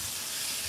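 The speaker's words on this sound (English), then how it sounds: "So I'm adding beef. You can hear the sizzling." Beef sizzles as it fries in a pan for a taco salad, a steady, dense hiss that stays even and close throughout, with no voices over it.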